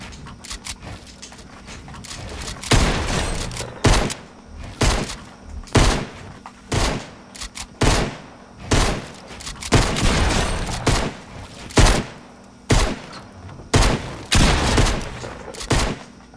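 Rapid bursts of video game gunfire crack out in irregular clusters, loud and close, with short pauses between volleys and thudding impacts mixed in.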